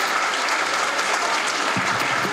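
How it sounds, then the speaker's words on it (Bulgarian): Dense, sustained audience applause filling the space at the opening of a rosé wine festival, loud and steady throughout with a faint crowd murmur beneath. "Аплодисменти за Ана Дундакова."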